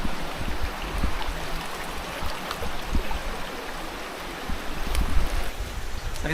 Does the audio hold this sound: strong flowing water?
yes